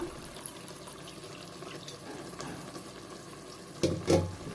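Water bubbles and simmers steadily at a low level in a pot while cooking Ambur biryani, with a brief louder splash or clatter near the end.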